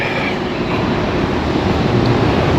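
A GO commuter train rolls westbound on the tracks directly overhead, heard from a pedestrian tunnel below as a loud, steady, dense rumble that fills the whole clip with no talking.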